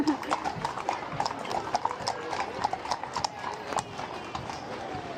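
Hooves of racehorses from the same stable at a racecourse, a rhythmic clip-clop of several horses walking on a hard surface, close and steady, with people talking over it.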